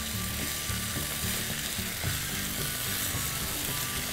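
Baby corn, carrots and French beans fry on high heat, a dense steady sizzle running throughout with low rhythmic clatter of stirring beneath it.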